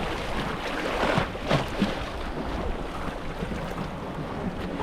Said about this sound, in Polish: Mega fale.